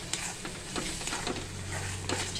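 Mutton masala spices stir-fried in hot oil for a Satara-style mutton thali, giving a steady close sizzle broken by scraping stirring strokes, with no voices.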